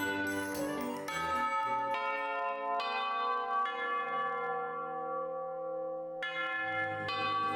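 School lunchtime bell chimes from a visual novel game ring out in a slow, sustained melodic sequence of tolling tones, loud and resonant with long overlapping decays.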